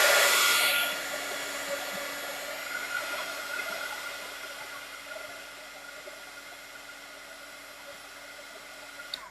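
A hair dryer blows on craft paint with a steady whooshing roar; a louder blast at the start settles into a softer, continuous hum for the rest.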